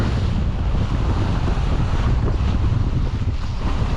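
Steady, loud wind rushes across the microphone with the wash of waves on board a catamaran sailing upwind along the Spanish coast, a continuous roar without a break.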